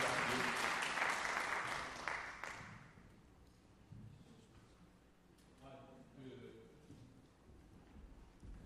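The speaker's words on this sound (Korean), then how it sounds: "다시 한번 조윤정 수상자님께 큰 박수 한번 해드리겠습니다" A lecture-hall audience at a Korean social culture college breaks into loud applause for an award winner, the clapping strong for about three seconds then fading into quieter murmurs and scattered talk.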